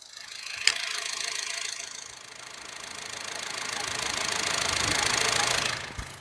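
Honda Brio car engine idling close to the microphone, a steady even hum with a slight rattle, swelling gently and holding, with a sharp click near the start and another near the end.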